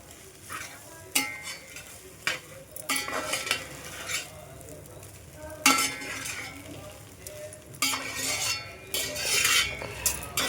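Egg dum biryani stirred in a pan, with a utensil repeatedly scraping and clinking against the metal over a steady sizzle, in bursts of irregular rhythm, close and fairly loud.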